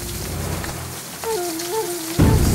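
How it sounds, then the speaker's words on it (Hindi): Rain pouring steadily at night, a constant hiss of drops filling the scene, with a sustained musical tone gliding over it and a louder burst of rainfall near the end. "रोशनी में बारिश की बूंदे भी एकदम हीरे की तरह चमके हैं।"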